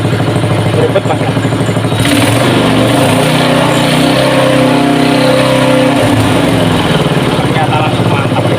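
A water pump engine converted to run on LPG gas chugs loudly and steadily close by, its rough mechanical drone changing slightly partway through, with a voice speaking over it.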